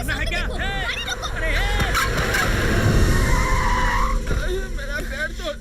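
A car in a Hindi dubbed action movie brakes hard and skids, its tires squealing loudly over several seconds amid crowd babble and shouting voices.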